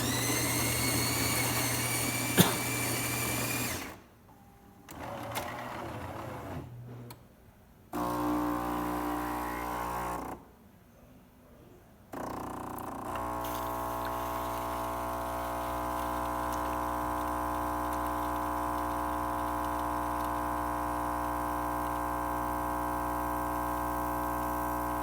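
A Jura coffee machine runs a test shot after a full service and descale, its motor whirring and pump buzzing in loud bursts split by brief pauses, then settling into a long steady hum.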